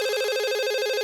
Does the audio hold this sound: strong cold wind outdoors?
no